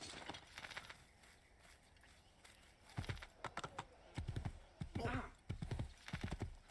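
A horse in the video game Assassin's Creed 2 clip-clops in irregular bursts of hooves with a short whinny, fairly faint, while someone talks over it.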